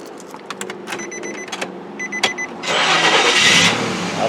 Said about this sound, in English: go ahead and start the engine first.